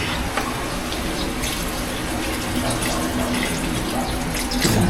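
Water runs in a steady, hissing stream, splashing continuously into a cooking pot at close range with no talking.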